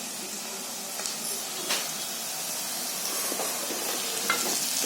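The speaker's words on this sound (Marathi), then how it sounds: "कांदा मिरची चांगला फ्राय होतोय." Onion and green chilies sizzle steadily with curry leaves in a hot pan, a continuous close frying hiss broken by a few sharp crackles and spatters, with no talking.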